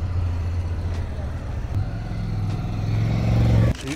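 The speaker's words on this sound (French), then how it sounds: "Il y a une moto qui va partir." A motorcycle idles with a steady low engine drone, then its note climbs and swells louder as it pulls away, cutting off abruptly near the end.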